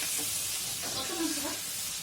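Ginger-garlic paste for a mutton dish fries in hot oil with a continuous loud sizzle and hiss while it is stirred, with faint speech underneath.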